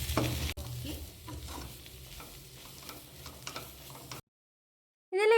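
Browned masala for Kerala-style chicken curry is stirred in a pan, soft repeated scraping strokes over a low sizzle, then a sudden cut to silence and a brief burst of another sound at the very end.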